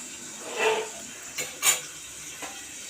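Potato curry cooks in a pan on a home stove: a faint, steady sizzle runs underneath while a few scattered scrapes and clinks of a utensil against the pan stand out. No one speaks.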